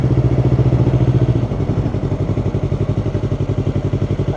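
Yamaha R3 motorcycle ridden in second gear, its close, pulsing engine note settling and then chugging steadily as the throttle is let out, heard from the rider's position with no talk.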